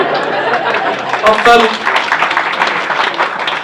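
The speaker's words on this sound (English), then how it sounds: "Yes, that was worth a clap, wasn't it, nearly?" Comedy club audience giving a short burst of applause and chuckles at a stand-up gig, moderate clapping mixed with crowd murmur.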